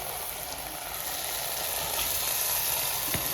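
Potatoes dropped into a pan of spinach frying in ghee, a steady close sizzle with light stirring scrapes and a soft clink, no voices.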